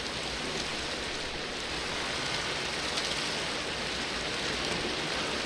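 Steady rain falls in the Minecraft FTB Ultimate Reloaded game, a dense, continuous hiss of rainfall that stays even and fairly loud throughout, with no voices.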